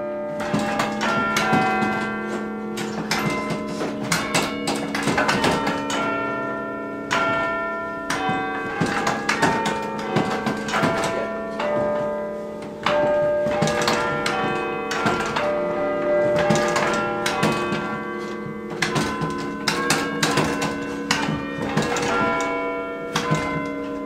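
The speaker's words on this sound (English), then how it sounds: "The reason for having 15 bells was it takes 15 bells to play Illinois Loyalty, which is the main school song." Chime of 15 bells in a university tower plays a school song, a steady melody of overlapping struck bell tones ringing out with long sustained decay, loud and continuous with no talking.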